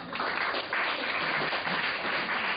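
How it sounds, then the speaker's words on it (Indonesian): A room full of people applauding, a dense, even burst of clapping that carries steadily for a few seconds. "Kasih tepuk tangan untuk teman kita ya"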